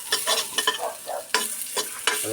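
Onions for adobo are stirred in a frying pan, giving a run of sharp spatula scrapes and clanks over a soft sizzle, close and without talk.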